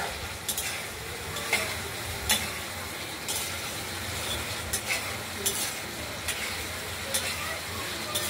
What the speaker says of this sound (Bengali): মশলাটা আমাদের কষানো হয়ে গেছে, দেখতেই পাচ্ছেন তেলটাও ছেড়ে এসেছে